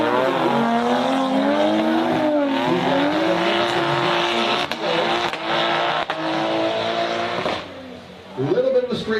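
A drift car corners in a drifting competition on the plains, its engine droning loud and near with wavering pitch and tire noise, under steady crowd and commentary sound, then dropping briefly before revving again.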